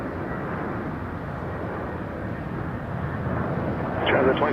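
A fixed-wing airliner coming in to land at Toronto Pearson Airport, a steady broadband engine roar at moderate distance that swells slightly louder toward the end.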